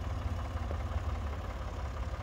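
A Ford 4000 tractor engine runs steadily at a low idle-like throb while the tractor works a corn field. It sounds moderately faint and continuous, with no voices.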